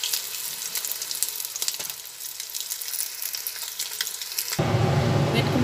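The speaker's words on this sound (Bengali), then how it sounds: "মোটামুটি লাল লাল করে ভাজা হয়ে গেছে। তবে আরেকটু ভাজা হবে" Bhetki fish pieces fry in oil with a continuous bright sizzle and crackle; near the end the sound shifts abruptly to a louder, fuller hiss.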